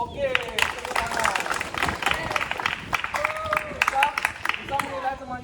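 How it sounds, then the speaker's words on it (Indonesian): A group of junior high students claps for a classmate after a squat-style long jump at a school sports lesson, a steady patter of many hands with children's voices mixed in throughout. "Oke, tepuk tangan."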